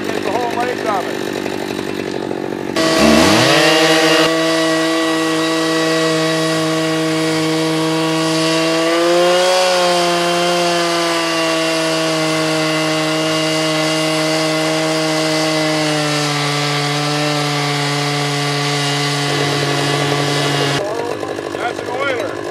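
A chainsaw on an Alaska chainsaw mill makes a first cut through a log. It starts up abruptly and holds a loud, steady, buzzing whine for about eighteen seconds, with one slight rise in pitch mid-cut, before cutting off.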